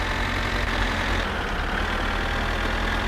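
A three-speed tractor engine in the driving game My Summer Car idles and chugs steadily with a heavy low rumble, loud and continuous throughout, with no talk over it.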